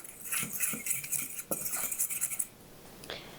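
A utensil scrapes and clinks against a bowl, mixing salt and pepper into breading for breaded chicken. The taps are close and irregular, then go quiet near the end.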